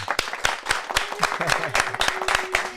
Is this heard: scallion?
no